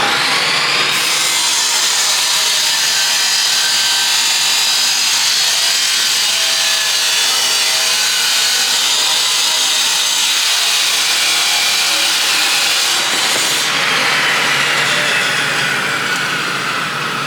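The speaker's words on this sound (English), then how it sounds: "I'm gonna have to grind about half of that nut" A steel nut is ground down on a welded part for a budget gasser build, with a loud, continuous, harsh grinding roar that holds steady and then shifts in tone near the end.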